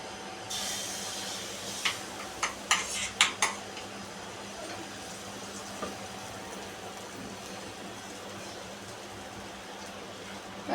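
A spoon clinks and scrapes against a pan while masala is stirred, a quick cluster of sharp metallic taps over quiet kitchen background, then mostly still.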